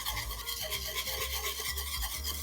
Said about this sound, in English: So now we're gonna whisk this until it gets nice and smooth.